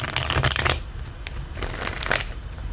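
Tarot cards riffled and shuffled by hand in a few quick bursts, close and crisp, with short pauses between and no talking.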